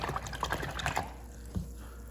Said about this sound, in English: And then I'm going to rinse out my brush.